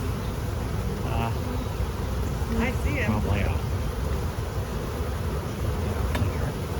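Dense buzzing of a honeybee swarm, steady and close throughout, with people talking over it.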